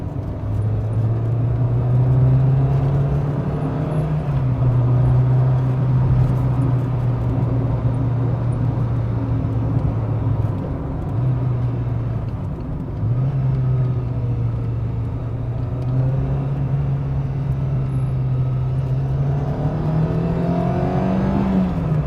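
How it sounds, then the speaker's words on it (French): A loud, steady Renault Clio engine drones at high revs with a strong low hum, rising and dipping slightly in pitch, close and continuous throughout. "le bruit moteur il est quand même assez présent"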